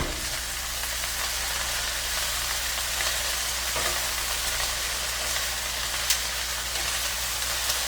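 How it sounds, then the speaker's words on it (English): Shrimp and cabbage sizzle and crackle in a single pan as a spatula stirs the stir fry, a dense, steady frying hiss with occasional small pops and scrapes, no talking. "And I'm just giving this a stir."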